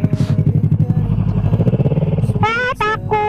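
A clutch-operated motorcycle engine chugs and idles with a steady, rapid putter close by, then voices talk over the running engine near the end.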